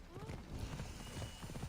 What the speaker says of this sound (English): you hold down on the D-pad to call your horse